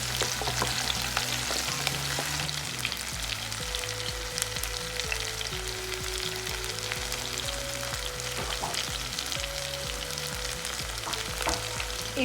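Garlic and onion sauté in oil for a Tamil turkey berry curry, giving a steady, close, crackling sizzle with frequent stirring scrapes throughout, with no voices.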